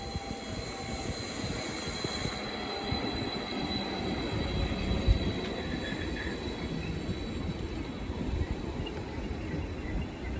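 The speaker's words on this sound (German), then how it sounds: "Der Zug hält daher vor dem Hauptsignal." A passenger train rolls into Venlo station and slows to a halt, its low rumbling wheels and carriage noise running continuously and fairly loud, with a faint squeal near the middle.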